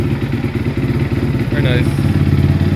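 A 2004 Honda CRF250X dirt bike kick-starts and settles into a rapid, steady idle thumping close by, with the engine note rising slightly as it catches.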